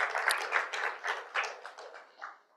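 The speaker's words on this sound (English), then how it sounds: "maybe a round of applause for the panel before we start" Scattered applause for a conference panel comes from a small audience in a hall, uneven bursts of clapping fading out over a couple of seconds.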